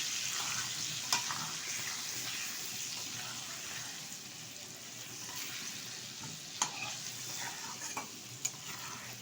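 Chicken with meat masala, turmeric and chopped tomato stirred in a pan, picnic style, giving a soft continuous sizzle with occasional scraping clinks of a spoon against the pan, quiet and close, no talking.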